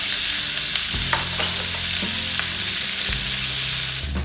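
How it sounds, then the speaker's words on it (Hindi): Small cubes of chicken frying in a tablespoon of oil in a pan, giving a steady close sizzle broken by a few soft clinks and stirring scrapes. "ऑयल में चिकन को अच्छी तरह फ्राई करेंगे।"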